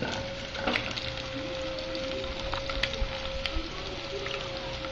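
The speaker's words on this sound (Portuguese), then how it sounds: "dá uma fritada básica no bacon" Bacon fries in a pan with a faint, steady sizzle and crackle, and small pops scatter through it alongside a thin constant hum in the background.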